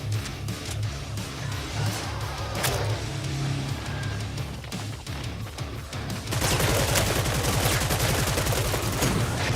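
Video-game gunfire with sniper shots: continuous crackling volleys of shots, with a harsher, denser stretch of rapid fire bursting in near the end.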